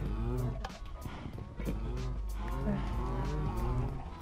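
Cows in the video game Minecraft moo repeatedly in low, drawn-out calls, several overlapping across a few seconds, with people talking over them.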